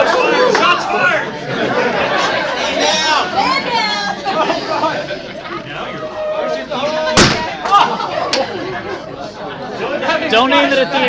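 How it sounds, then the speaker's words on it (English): Sharp gunshot-like bang at a convention opening ceremony, one loud crack cutting through steady crowd chatter and voices, followed by a second fainter snap moments later. "Shots fired!"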